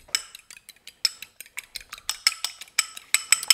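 A fork beats eggs in a bowl for a German Christmas cookie recipe, giving a quick, steady run of sharp metallic clicks and clinks, close and fairly loud, with no talking.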